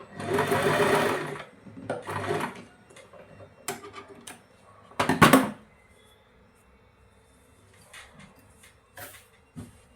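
Bursts of a domestic sewing machine stitching a blouse, with reverse stitches at the start and end of a seam, run in short loud spells separated by clicks, handling noises and quiet pauses.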